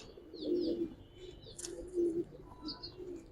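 Pigeons coo softly nearby at a pigeon market, two low throaty calls with faint chirps in between.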